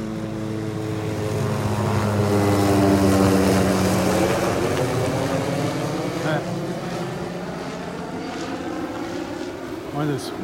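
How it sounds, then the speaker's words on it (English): A mosquito control helicopter passes over a beach on a morning walk, its engine and rotor drone building to a loud peak around the middle, then slowly fading as it moves away, with a steady low rumble throughout. "One of those mosquito control helicopters."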